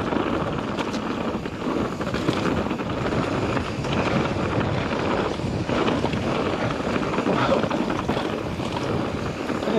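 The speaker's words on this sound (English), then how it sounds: "That wind is fierce." Strong wind roars and buffets the microphone steadily throughout at a mountain bike park in Wales, a dense, continuous rushing with gusty swells.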